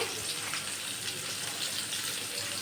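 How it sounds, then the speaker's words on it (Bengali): Onion and garlic paste sizzles in hot oil in a pan, a steady, close hissing crackle that holds evenly throughout with no talking. "তেলটা গরম হয়ে গেছে। আমি পেঁয়াজ দিয়ে দেব, সাথে রসুন বাটা দিয়ে দেব"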